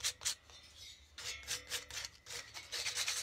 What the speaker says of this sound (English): A little bit, real lightly scuffing this up